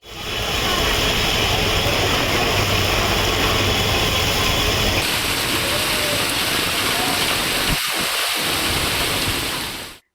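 Heavy rain roars in a dense, steady wash over flooded streets in Hyderabad, with a brief low thump or two near the end.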